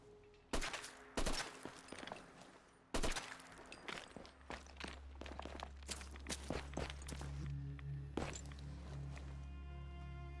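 Gunfire in Fallout 4, shots aimed at fish: several sharp, loud cracks ring out spaced apart, then a denser cluster of quicker shots over a low steady hum, close and with no voices.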